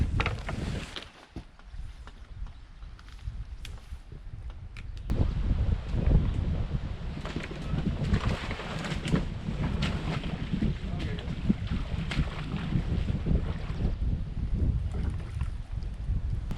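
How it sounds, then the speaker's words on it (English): Wind gusting hard on a portage of wet, slippery logs during a solo canoe trip in the Wabakimi boreal forest, a steady broadband roar that swells loudly about a third of the way in and stays strong to the end. "the wind picked up and it threw me and the canoe right off"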